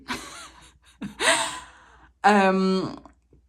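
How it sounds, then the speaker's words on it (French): A cat meows nearby in a couple of breathy calls, the last one long and strongly pitched, with soft background noise between. "Vous entendez mon chat en arrière, je suis désolée, il va bien en passant. Il miaule toujours comme ça"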